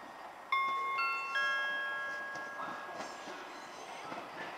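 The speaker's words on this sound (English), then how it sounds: "Platform 4 for the 1510 First Great Western service to Gatwick Airport" A First Great Western train sits at a station platform, opening with sudden overlapping tonal notes that fade into a low, steady rumble with scattered clanks.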